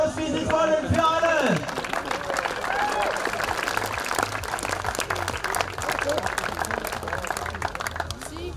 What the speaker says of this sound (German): jetzt gibt es noch Beifall oder Applaus, wie Sie wollen, für alle